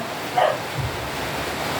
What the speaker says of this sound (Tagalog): nag-interrupt yung aso